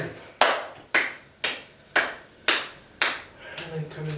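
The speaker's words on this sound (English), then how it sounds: "as we then clap again" Hands clap during an advanced yoga routine: seven crisp, close claps at an even half-second beat, followed by softer rustling as a low voice starts.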